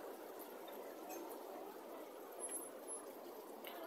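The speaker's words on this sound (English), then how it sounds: "Thought I could hear water." Gentle trickling water from a Buddha waterfall feature among shops in Benidorm, a soft steady splashing wash that runs evenly throughout with no talk over it.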